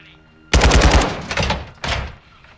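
Automatic gunfire in the Call of Duty Modern Warfare 2 video game, a loud close burst of rapid shots followed by a second shorter burst after a brief gap.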